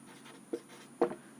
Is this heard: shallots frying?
no